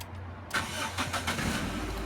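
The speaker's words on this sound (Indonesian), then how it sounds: "Matiin dulu mesinnya. Nah, oke. Coba sekali lagi, starter." Car engine cranked by the starter after its flooded lead-acid battery was drained, refilled and fully recharged; a short crank catches quickly and settles into a steady idle, close and clear with no talk.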